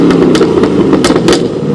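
A Chevrolet Camaro ZL1 on its stock exhaust revs loud and close, with repeated sharp throttle blips rising over a constant rumble.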